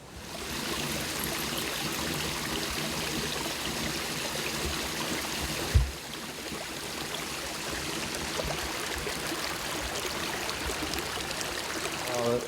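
Creek water runs through a fish hatchery on an old creek bed, a steady rushing, trickling flow heard up close, with one brief bump partway through.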